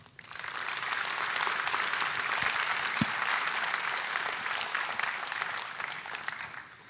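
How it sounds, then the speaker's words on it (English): Convocation audience applauding graduates in a large hall, an even, steady round of many hands clapping that swells quickly, holds for several seconds, and tapers off near the end, with no talk over it. "Let's give them a round of applause."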